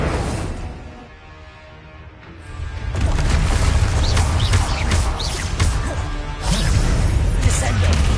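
A fire spell cast in the video game Hogwarts Legacy bursts in with a loud whooshing roar that swells after a quieter stretch and holds steady, with further crackling bursts and game effects layered on top.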